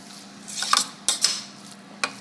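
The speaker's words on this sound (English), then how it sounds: "You need to stir the peas into the rice" Peas being stirred into moist cooked Greek rice in a pot, with a few sharp spoon clinks and scrapes against the metal spaced irregularly over soft background hum.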